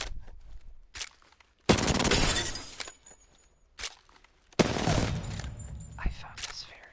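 R99 submachine gun in Apex Legends, fired in the Firing Range: two loud, dense full-auto bursts, each about a second long, separated by quieter clicks and handling noises.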